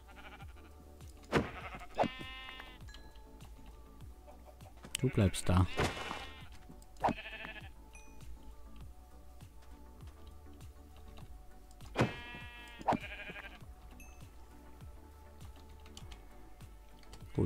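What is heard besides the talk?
sheep bleating in the video game Minecraft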